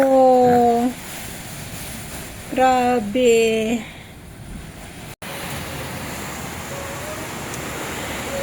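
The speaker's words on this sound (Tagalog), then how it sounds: "Lakas ng ulan sa labas." Steady broadband wash of a heavy afternoon rainstorm with gusting wind outside fills the whole clip, with a voice speaking briefly at the start and again in the middle.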